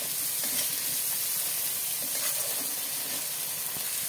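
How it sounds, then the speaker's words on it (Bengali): Ground cumin, turmeric and salt fry in hot oil with a steady, close sizzling hiss and faint scrapes of stirring throughout. "ভালো করে মশলাটাকে কষাতে হবে"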